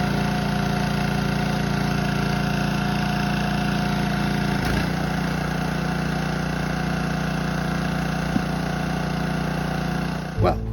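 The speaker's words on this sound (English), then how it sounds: "There's a guy running a generator over there." A generator drones steadily at a campground in upstate Maine, a constant mid-pitched engine hum that runs the whole time, fairly loud and unbroken, with a brief knock or bump near the end.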